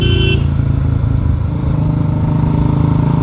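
A Royal Enfield Classic 350 Bullet thumps along a road with a loud, steady single-cylinder exhaust beat, heard close from the rider's position, while a horn toots briefly at the start.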